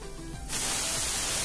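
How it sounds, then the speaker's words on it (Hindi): A pressure cooker full of chickpeas reaches pressure and lets off a loud, steady hissing whistle that bursts on suddenly and keeps going, close by in a home kitchen. "तो देखिए इसमें एक सीटी आ गई है"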